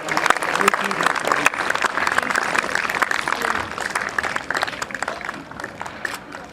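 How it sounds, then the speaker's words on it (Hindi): Crowd clapping at a Republic Day event honouring two children, a dense round of applause that holds steady and then thins slightly toward the end, with voices mixed in underneath. "प्लीज राशि एंड तालियां बजाइए"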